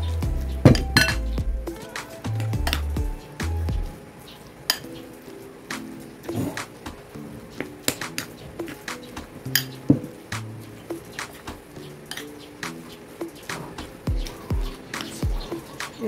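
Ground pork and chopped vegetables are mixed together in a bowl for steamed pork meatballs, giving repeated clinks and taps of a utensil against the bowl with soft squishy mixing in between, close and fairly quiet.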